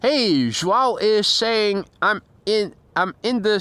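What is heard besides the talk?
No everyday noises stand out.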